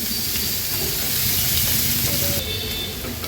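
Chopped onions fry in a pan over a low gas flame, giving a steady, loud hissing sizzle that runs unbroken and eases slightly near the end.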